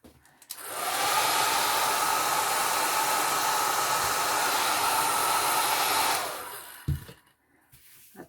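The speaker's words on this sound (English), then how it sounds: "That's an ordinary blow dryer." A hair dryer blows in a steady, loud whoosh for about five seconds, then clicks off, leaving quiet with a faint bump.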